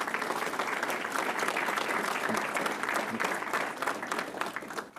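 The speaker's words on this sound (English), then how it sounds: "one more round of applause for 25 years of service" Audience at a school board meeting applauds in a dense, even burst of clapping that holds steady and fades slightly at the end, moderately distant.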